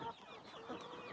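Silkie hens cluck softly in a farm courtyard, a steady low murmur of fowl with some faint background noise.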